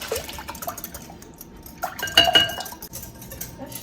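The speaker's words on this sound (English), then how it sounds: "I'm gonna use a whisk." A whisk works through brownie mixture in a bowl, with quick metallic clinks and scraping against the bowl's sides in uneven bursts, close by and clear, with no one talking.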